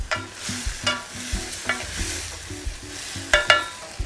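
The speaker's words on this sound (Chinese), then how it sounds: "刚刚的鸡丁下锅" Diced chicken stir-fries in a wok, with a steady sizzle broken by repeated sharp scrapes and clanks of the spatula at an uneven rhythm, close and clear with no talking.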